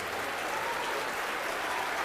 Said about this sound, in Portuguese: Então dê uma salva de palmas poderosa para esta palavra.